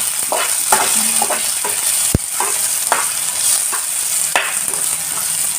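Onions, ginger and garlic fry in hot oil with a constant bright sizzle, punctuated by spoon scrapes and one sharp clank from the pan, close and without talk.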